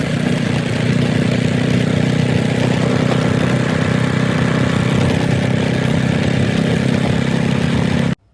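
A Royal Enfield Bullet motorcycle engine runs continuously on the ride home from the fields, a loud steady low thumping drone heard alone for the whole stretch before cutting off at the end.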